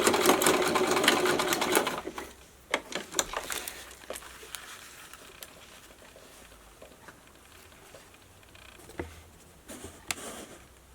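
Sewing machine running in a steady rapid burst while top stitching a catsuit seam for a cosplay costume, then a few short bursts and light handling clicks follow; close and clear, with no talking.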